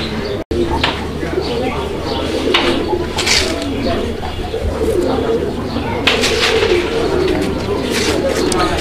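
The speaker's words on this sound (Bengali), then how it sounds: "আপনারা দেখলেন কত সুন্দরভাবে ডাক দিচ্ছিল নর কবুতরটা" A male pigeon coos in repeated low, rolling calls, close and clear, with other birds and a background murmur of voices around it.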